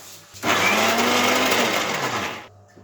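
Kitchen mixer grinder runs loud and steady for about two seconds, blending green chilli, peeled ginger and water into a smooth chicken kebab paste, with a whirring motor pitch that shifts slightly before switching off.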